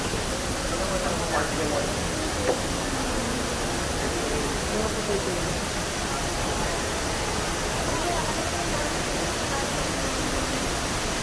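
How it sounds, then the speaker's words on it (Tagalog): Steady, dense rush of an indoor waterfall inside the Dubai Mall, a continuous even roar that fills the space with only faint murmurs around it. "Falls sa loob ng mall."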